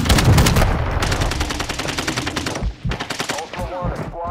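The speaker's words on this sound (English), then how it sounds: "taking effective fire" Dense, loud bursts of machine-gun and rifle fire from a desert-combat video game, rapid rattling volleys overlapping almost continuously with a brief lull near the end.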